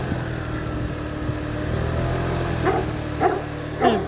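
A dog in Hermann, Missouri gives three short barks near the end, moderately distant, over a low constant engine-like hum.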